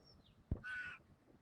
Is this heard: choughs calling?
yes